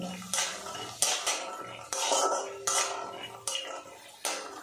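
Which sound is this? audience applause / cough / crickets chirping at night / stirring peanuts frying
stirring peanuts frying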